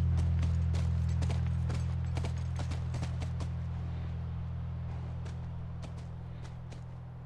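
Horse hooves clip-clop in The Last of Us at a ranch, a run of distinct hoof strikes over a steady low hum, fairly close at first and thinning out toward the end.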